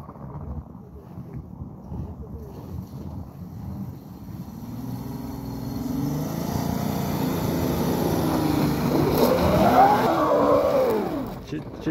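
Engine of an off-road vehicle such as a Toyota Land Cruiser 80 4.5, Lada Niva 3-door, Honda Pilot or Land Rover Freelander, revving while pulling out: low steady drone that rises and swells toward the end, with wind noise over it.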